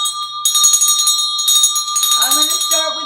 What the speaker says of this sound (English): I'm going to start with the bell again.